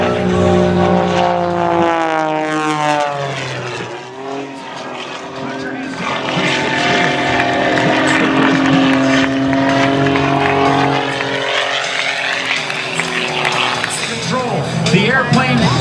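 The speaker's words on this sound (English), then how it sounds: "Watch the aircraft as he comes down lower and lower and lower." The aerobatic airplane Prometheus, a 400-horsepower propeller plane at the NAS Jax airshow, roars past low overhead, its engine drone sweeping up and down in pitch, loud and close, with an announcer talking over it.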